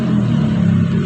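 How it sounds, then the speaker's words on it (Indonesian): Many motorcycles passing by on an outdoor street, a continuous loud low engine rumble and drone filling the moment with no voices over it. "Sorry ya kalau bising-bising banyak motor lewat."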